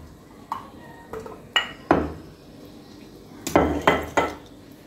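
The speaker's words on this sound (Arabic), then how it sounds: "وغادي نخلط المكونات مزيان مزيان" Msemen dough ingredients and oil are stirred in a bowl, giving a series of distinct clinks and scrapes of a utensil against the bowl, spaced irregularly and then bunched together near the end.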